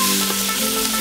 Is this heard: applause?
no